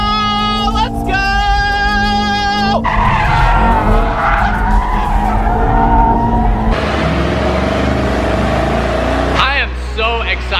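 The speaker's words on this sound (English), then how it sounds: "we are in drift mode on the track, about to try drifting the E63" Mercedes E63S drifting on a track in drift mode, tires squealing and skidding loudly over a roaring, revving engine, with the pitch sliding and shifting throughout and an excited voice calling out at the start.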